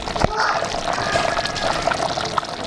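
A pot roast bubbles and simmers in a pot on the stove. The steady, close, hissing bubbling is heard with a brief clink near the start.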